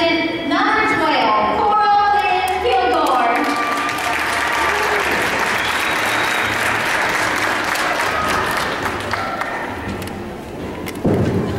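A crowd at a children's beauty pageant gives a contestant a sustained round of applause. Loud, dense clapping follows a brief announcer's voice and continues steadily with a few scattered thumps.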